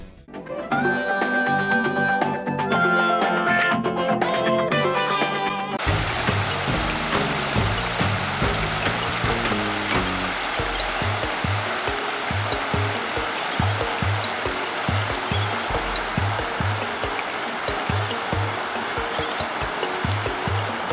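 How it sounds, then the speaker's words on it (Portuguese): River rapids near the village of Cachoeira rush in a loud, continuous roar of churning water, heard after a few seconds of music with a tonal melody. "que se caracteriza por conta dessas corredeiras que existem no rio"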